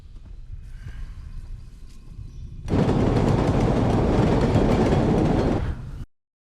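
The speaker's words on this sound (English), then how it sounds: "Sound of a train." A train passes in a movie sound effect: faint rumble first, then a sudden loud, sustained rushing clatter of a train going by that cuts off abruptly after a few seconds.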